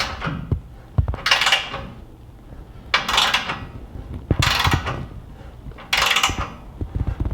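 A ratchet tightens bolts on rock sliders for a Toyota Tacoma, producing four loud bursts of rapid clicking separated by short pauses, up close in a workshop with no talking.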